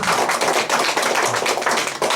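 Audience applause at an anti-corruption group training event, a lively burst of many hands clapping at close range with a slight dip near the end.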